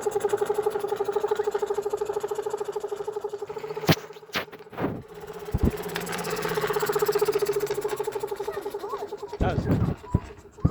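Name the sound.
trike engine built from a compressor motor running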